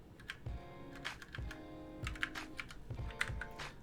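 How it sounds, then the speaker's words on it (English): Fast, steady typing on a computer keyboard during a coding livestream, a dense run of close, crisp key clicks with a few heavier strokes and no talk. "My typing is getting faster slowly."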